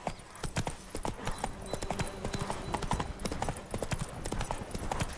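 Roach, the horse in The Witcher 3, galloping: rapid, continuous hoofbeats in a driving rhythm, close and loud, with a brief vocal sound among them.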